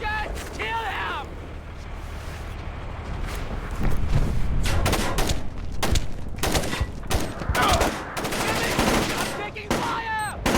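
Rapid gunfire bursts and heavy thudding shots in the stealth-action video game Splinter Cell: Chaos Theory, loud and continuous over about ten seconds, with shouting voices of soldiers mixed in throughout.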